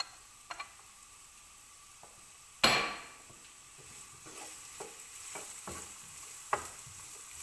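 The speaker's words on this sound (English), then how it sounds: "I'm heating up a little bit of oil in my pan, and I've chopped my onion and garlic. So I'm going to sweat that off" Chopped onion and garlic frying gently in a little oil in a pan, a soft steady sizzle with scattered ticks of stirring and one sharp clatter near the middle.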